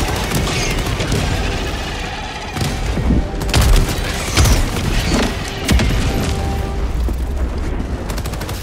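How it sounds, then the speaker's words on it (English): A Helldivers 2 orbital strike on the Fenrir III battlefield booms through a dense, continuous barrage of heavy gunfire and explosions, several loud blasts rising above the sustained roar. "Requesting orbital strike."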